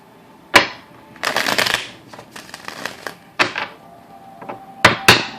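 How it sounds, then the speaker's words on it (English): Cards riffle-shuffled in several quick bursts, each a crisp fluttering rattle ending in a snap, with short pauses between. "Two more shuffles."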